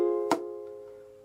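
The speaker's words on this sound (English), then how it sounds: "to get the snare sound, I kind of experimented whacking my ukulele" A single sharp percussive thump of a thumb hitting a ukulele body like a snare, landing over ringing strummed ukulele strings that sustain and fade over about a second.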